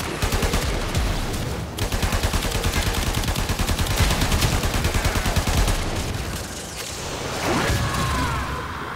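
Sustained rapid gunfire from weapons in the video game Warframe, a dense, loud stream of shots that runs almost unbroken, with brief gaps and some whooshing game effects near the end.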